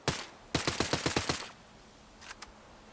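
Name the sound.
SN-9mm SMG gunfire in Ghost Recon Breakpoint video game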